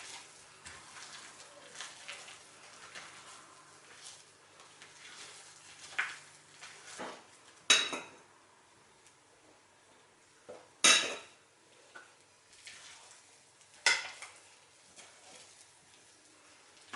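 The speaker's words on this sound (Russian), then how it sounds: "частями буду добавлять белок. И аккуратно снизу вверх лопаткой все перемешиваю" A spatula folds egg whites into chocolate Sacher cake batter in a bowl: soft, quiet scraping strokes broken by a few sharp clinks against the bowl's side.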